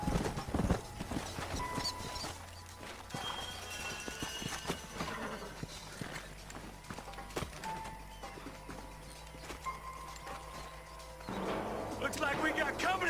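Horses trot in the Red Dead Redemption western game, with rhythmic clip-clop hoofbeats and an occasional whinny over background game score, close and fairly loud.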